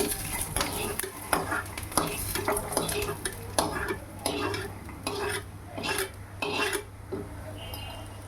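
Peanuts and green chilies sizzle steadily in hot oil in a pan, with a constant frying hiss under repeated scraping strokes of a stirring spoon, close and loud.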